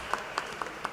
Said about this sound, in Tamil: நம்ம எல்லாருமா சேர்ந்து இந்த 5 நண்பர்களுக்கும் சேர்ந்து ஒரு கைதட்டிடுவோமா?